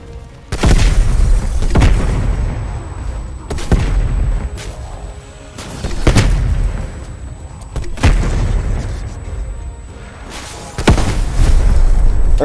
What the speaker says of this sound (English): I just blinded myself with my own grenade